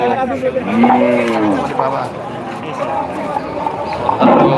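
Cattle low repeatedly at a large Bangladeshi livestock market, loud and close, with a rising-falling moo near the start and another at the end over a steady crowd murmur and talk.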